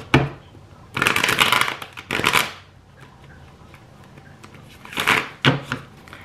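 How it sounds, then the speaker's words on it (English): A deck of tarot cards shuffled up close in several crisp, rustling bursts of about a second each, separated by near-silent pauses. "I feel like I need a shuffle because I'm not getting anything."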